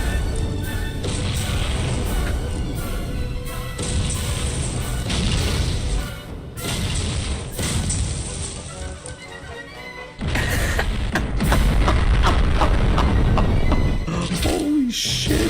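Dynamite and grenades set as traps across an animated level go off in a loud, dense chain of blasts and crashes, with a brief dip before another heavy burst of explosions.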